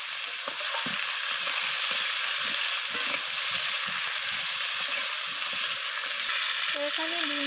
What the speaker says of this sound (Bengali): আমি বিনসগুলোকেও আলুর সাথে ভেজে নিচ্ছি